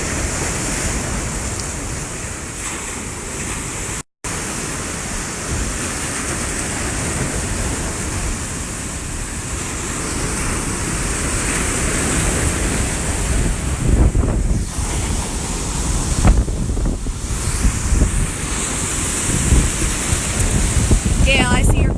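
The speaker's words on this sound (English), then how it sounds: "all angry ocean" Hurricane Dorian's storm surge pounds the beach at St. Simons Island, Georgia, with a continuous roar of crashing waves and heavy wind buffeting the microphone, loud and dense throughout, with surges swelling in the latter half.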